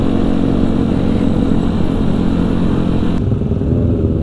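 A supermoto motorcycle engine on a Sunday morning group ride near Lembang holds a loud, steady, close rumble with a buzzing tone throughout, easing slightly in intensity after about three seconds.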